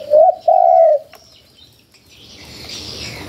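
A recorded bird call plays through a loudspeaker used for bird trapping: two loud, tonal cooing notes close together. Quieter clicks follow, then a soft rushing hiss that builds.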